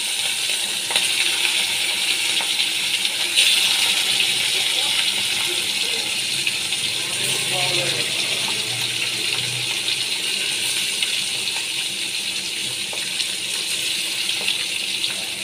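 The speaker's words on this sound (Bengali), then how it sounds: "এবার আমি তেলের মধ্যে এক এক করে মাছগুলো দিয়ে দিচ্ছি।" Pieces of hilsa fish go one at a time into hot oil, setting off a continuous crackling hiss broken by small pops and clicks. The sound stays close and fairly loud with no speech.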